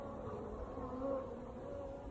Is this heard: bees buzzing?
yes